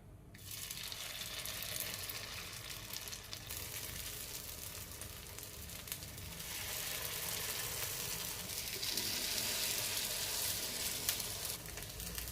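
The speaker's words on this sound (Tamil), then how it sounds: "இப்போ குழி பணியாரம் எண்ணெய் நல்லா சூடாயிடுச்சு. இப்போ நம்ம மாவு ஊற்றிக்கலாம்." Batter for kuzhi paniyaram, a white sorghum rava millet breakfast bite, poured into hot oil in a kuzhi paniyaram pan, giving a steady, close, continuous sizzle that runs unbroken throughout.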